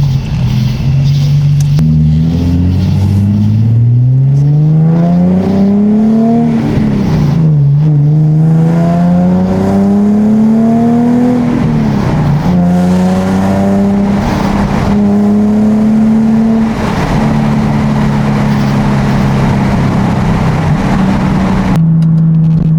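A Nissan 370Z sports car engine revs loudly and repeatedly, pitch sweeping up and dropping back several times, its very loud exhaust roaring close by throughout.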